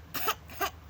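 A person produces two short, separate coughs close to the mic, each a brief rough burst with a quiet gap between them.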